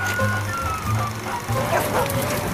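A dog barks in a quick run of short yips and woofs, close and fairly loud, with a voice talking alongside.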